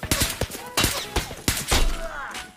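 Gunfire in the shooter game Escape from Tarkov: several sharp, loud shots in quick bursts over about two and a half seconds, each with a short echoing tail.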